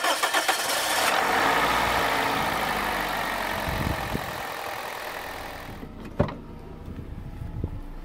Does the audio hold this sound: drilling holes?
no